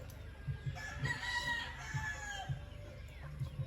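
A Pure Golden Boy Sweater gamefowl rooster crows at close range, its repeated call rising over a steady backdrop of clucking and fowl noise from nearby birds.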